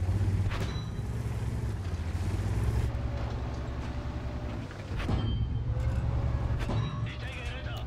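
A tank in World of Tanks rumbles along with a steady low engine drone and track noise, with a couple of clanking impacts along the way, while a voice talks over it.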